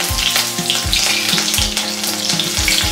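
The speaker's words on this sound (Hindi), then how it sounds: "मैं डाल रही हूँ इसमें राई और जीरा, बारीक कटी हुई हरी मिर्च" Mustard seeds, cumin and finely chopped green chilli frying in hot oil for aloo gobhi, giving a loud, steady close-up sizzle broken by rhythmic low thumps of stirring, with no talking.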